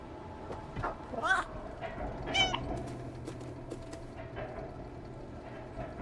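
Cat meowing in the video game Stray, a few soft, fairly faint meows over quiet ambient background noise.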